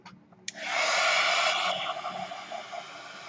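A handheld hair dryer drying paint on a piece of artwork switches on with a sudden loud blast and holds a steady, close rushing hiss for several seconds.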